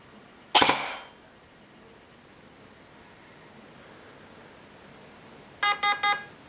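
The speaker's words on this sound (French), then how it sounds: "J'appuie une fois jusqu'à entendre les 2 bips" A short burst of electronic noise, then after a pause a quick series of three or four high, sharp beeps from an airsoft gun's burst-fire mosfet during setup, in a quiet room.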